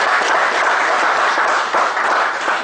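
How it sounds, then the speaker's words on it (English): Attendees at a GST workshop break into a big round of applause, a steady wash of many hands clapping, loud and close, with no voices over it. "Big round of applause for this."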